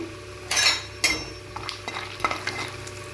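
Chana dal and peanuts fry in oil in a pan, a soft continuous sizzle broken by several sharp scrapes and clinks of a spoon stirring, close and without speech.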